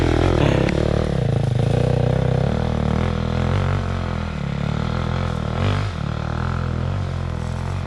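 A motorcycle engine revs hard and steadily as it climbs uphill in a forest, with a loud, close, throaty drone that rises and falls slightly, and faint clatter over rough ground.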